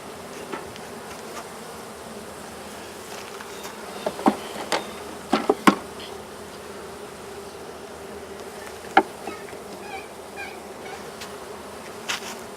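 Honey bees buzzing steadily around a Langstroth hive, a dense continuous drone close by, with occasional light knocks and taps over it.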